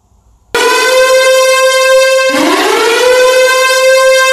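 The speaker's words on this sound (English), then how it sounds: "An ambulance." An ambulance siren starts abruptly after a short quiet moment and blares loudly and continuously, with its pitch dipping and rising partway through.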